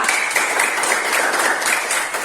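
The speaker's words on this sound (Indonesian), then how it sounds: "Tepuk tangan untuk kelompok 2" A classroom group applauds for group 2 after their presentation, a continuous even clatter of many hands at moderate volume with no talk over it.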